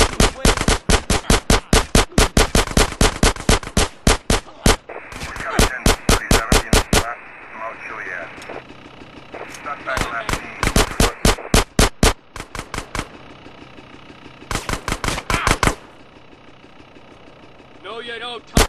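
Bursts of rapid automatic gunfire rattle in GTA San Andreas, loud clusters of sharp shots separated by short pauses, with an engine idling underneath and brief talk in between.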